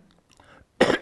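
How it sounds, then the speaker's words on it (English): A single loud, close cough bursts out after a stretch of near silence, brief and harsh. "Now, I'm going to cough again."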